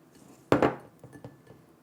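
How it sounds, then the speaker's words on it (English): A glass container being set down gives a single clear clunk with a short ringing decay, followed by a few faint light taps, close and otherwise quiet. "take a glass container"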